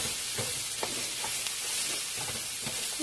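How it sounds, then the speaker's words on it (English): Chorizo sizzles steadily in a hot pan as it cooks down into small bits, a continuous bright crackle with occasional soft stirring knocks, close and without any talk. "Just going to cook the chorizo down until it's in little tidbits."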